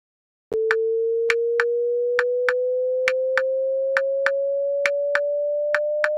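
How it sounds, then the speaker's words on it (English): An Audacity-generated sine tone sounds steadily and climbs slowly in pitch, loud and pure, with faint regular clicks spaced through it. "It's just like a sine wave that goes up. It just doesn't sound good at all."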